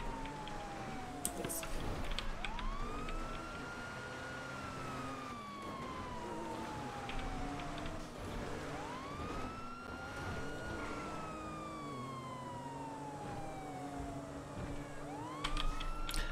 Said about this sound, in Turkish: Ben ambulans çağırdım onu ama pek yardımcı olmazlar.